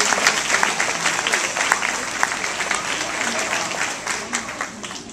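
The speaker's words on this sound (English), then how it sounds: "Great round of applause for our 6-year club members." Audience applause at a fifth-grade graduation ceremony, a sustained dense crackle of many hands clapping steadily for several seconds in a hall.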